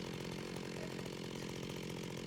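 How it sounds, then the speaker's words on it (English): Chainsaw from the IndustrialCraft mod cutting into a giant tree in modded Minecraft 1.12.2, a steady buzzing motor drone running unbroken and loud throughout. "I'm using a mix of industrial craft too, with the chainsaw"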